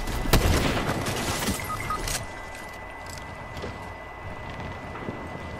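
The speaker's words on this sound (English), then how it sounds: "Oh, they're already shooting. They're already shooting." Gunfire erupts in a shooter video game, with a loud burst of shots in the opening two seconds that then falls back to a steady, rattling background of more distant fire and noise.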